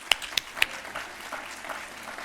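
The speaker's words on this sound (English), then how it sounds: "Another round of applause." Three loud, sharp claps up close at a conference panel, followed by a softer patter of scattered applause that fades out.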